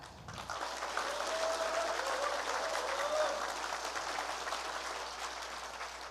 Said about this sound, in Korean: 여러분 고생하신 후보자에게 힘찬 응원의 박수 부탁드리겠습니다.